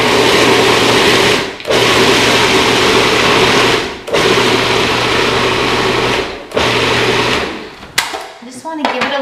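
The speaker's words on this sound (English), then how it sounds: "So I have both bags in my food processor. And I'm gonna process that down," Food processor grinding corn chip ingredients from two bags into a fine meal, loud whirring bursts in four pulses separated by brief stops, followed by rattling as the machine winds down.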